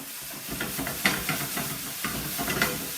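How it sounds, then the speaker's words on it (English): Sriracha chilli sauce sizzling and spitting in a hot frying pan, a steady broadband hiss with small crackles and stirring scrapes, close and moderately loud with no talk. "Hear the sizzle on that."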